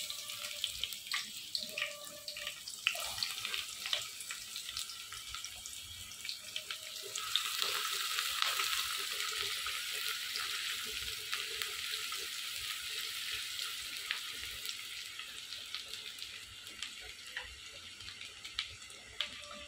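Chopped onion frying in a pan while a mashed side dish is being made, giving a steady hiss that swells louder after a few seconds and carries on with faint clinks, no voices.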